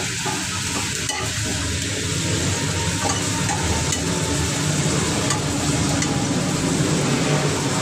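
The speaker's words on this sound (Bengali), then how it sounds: "পেঁয়াজটা ভেজে নিচ্ছি হালকা একদম হালকা ভেজে নিলাম" Onions lightly frying in a pan produce a loud, broadband, continuous sizzling hiss with a few faint utensil scrapes, close and steady throughout, no one speaking.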